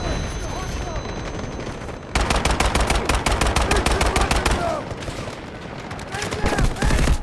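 Sustained machine gun fire in a Delta Force assault match, a fast, evenly spaced rattle of loud shots that starts abruptly and runs for several seconds, returning in a shorter burst near the end over a rumbling battlefield backdrop.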